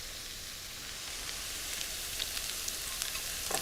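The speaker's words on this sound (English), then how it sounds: "Just give that a quick saute." Sausage, scallions and minced garlic sauté in a pan with a soft, even hiss of frying and faint scattered crackles toward the end, quiet and without voices.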